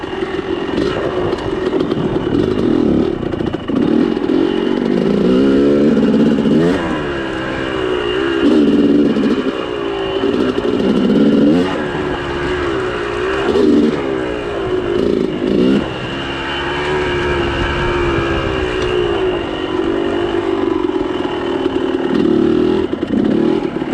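A motorcycle engine, a sticker-covered dirt bike, runs steadily and loud up close, its revs rising and falling in repeated swells for the whole stretch, with no talking.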